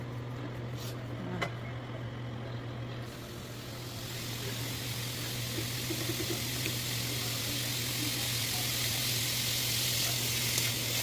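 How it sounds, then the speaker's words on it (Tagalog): Pork fat renders into lard in a frying pan, giving a steady, moderate sizzle and crackle that grows slightly fuller over time, with a low constant hum beneath and no talking. "ilagay lang po yung taba sa kawali. Pantayin lang natin siyang magmantika"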